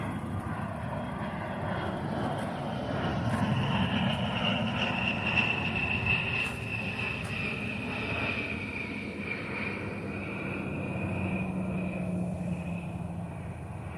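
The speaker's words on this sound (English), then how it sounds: "They should keep this aircraft flying." A military fixed-wing aircraft passes overhead near Davis-Monthan Air Force Base, a steady loud engine roar with rising and falling whine lasting throughout, no talking.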